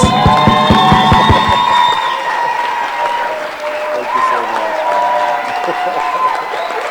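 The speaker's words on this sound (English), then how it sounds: "So can us all just stand up and just give him a round of applause?" An audience gives a standing round of applause with whoops and cheers that fade out within a few seconds, and a voice speaks over the tail end.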